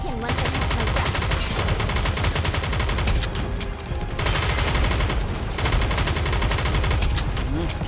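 Rapid, continuous gunfire from the mobile shooter game Nikke during an Outer Automata battle, with dense repeated bursts, close and loud over game music and effects, pausing briefly near the middle before resuming.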